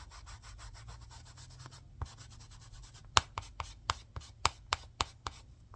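A brush smooths wet paint along the edges of a cake stand riser, making soft, rhythmic rubbing strokes: a quick run of light swipes, then about eight sharper, evenly spaced dabs, close and quiet with no talk.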